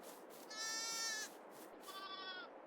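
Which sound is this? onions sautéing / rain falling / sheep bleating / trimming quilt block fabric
sheep bleating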